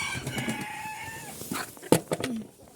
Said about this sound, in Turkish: Tavuklarımız hemen geldi.